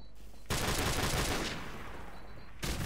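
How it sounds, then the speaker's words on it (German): Gunfire in Call of Duty: Modern Warfare Remastered, a dense, loud burst of shots running for about two seconds, then a fresh volley at the end, with little talk over it. "Ich werde schon wieder beschossen."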